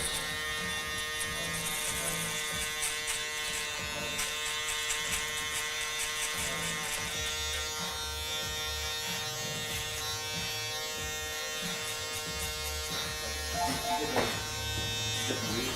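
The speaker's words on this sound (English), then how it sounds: "I'm just using the shaver to knock down the bottom" An electric shaver buzzes steadily and close up throughout as a barber trims the lower hair short, its hum shifting slightly as it moves against hair, with a faint voice in the background.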